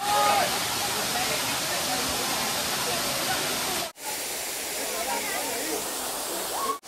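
Dudhsagar waterfall in Goa, among rocky ground, gives off a constant, dense rushing roar of falling water, loud and close, briefly cut off once, with faint voices under it.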